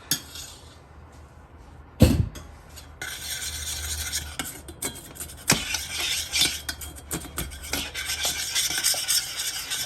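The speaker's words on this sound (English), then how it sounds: "scrape that excess sugar there, and mix this in well" A spoon stirs and scrapes melting sugar into caramel in a pan on the stove, giving a steady rasping, rubbing texture with a sharp clack near the start, close and fairly loud, with no talk.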